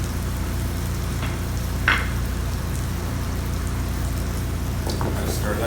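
Thyme being stirred in a hot pan, with a constant close sizzle and frying crackle, a few scrapes and light taps, and a voice speaking over the top.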